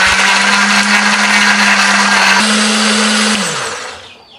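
A blender grinds garlic, shallots, ginger and turmeric with a little water into a spice paste, a loud steady motor whir with a slight pitch shift near the end before it winds down.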